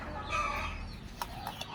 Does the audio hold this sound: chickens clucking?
yes